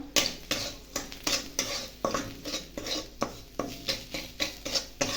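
Spices with Kashmiri chili powder and green chilies being stirred in a pan for radhaballavi: rapid, regular scraping strokes of a spatula on metal, about two per second, bright and close over a low sizzle, with no voices.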